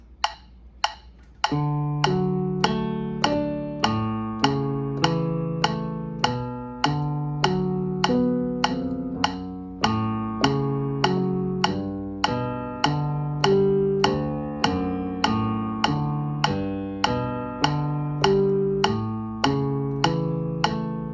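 A piano plays the left-hand part of Pachelbel's Canon in D as a steady run of even eighth notes, a metronome-like click marking each one, clear and close with no talking.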